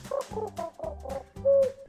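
A cartoon bird in DuckTales gives a series of short cooing calls, four or five pulsing hoots in quick succession, the last one held a little longer and louder.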